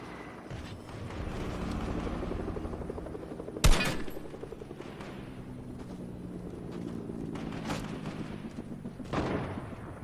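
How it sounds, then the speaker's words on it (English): A continuous video-game helicopter rotor drone throbs throughout, with a sharp gunshot-like crack near the middle and a few fainter impacts later. "And there's a helicopter,"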